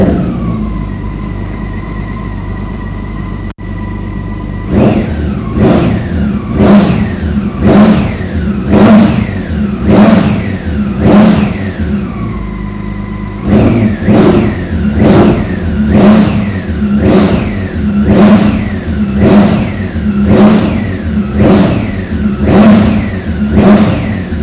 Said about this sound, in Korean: 레무스 머플러의 배기 사운드 한번 들어보고요